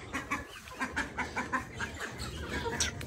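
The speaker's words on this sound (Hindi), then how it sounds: "ये हमारी मुर्गी हैं" Chickens clucking close by, a run of short rhythmic clucks over about three seconds against a steady background hum.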